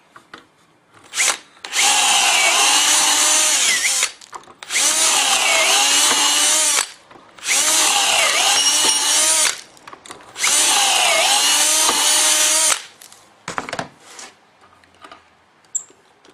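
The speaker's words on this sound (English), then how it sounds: "and drill our holes." A power drill drilling dowel holes in wood for a kitchen table whirs in four long bursts of a few seconds each, loud and close, with brief pauses and small clunks between runs.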